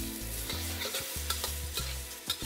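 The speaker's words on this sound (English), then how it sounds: "Give that a stir." A stir-fry with pineapple tossed in a hot wok, a steady loud sizzle broken by regular clanking scrapes of the stirring utensil, close up and without talk.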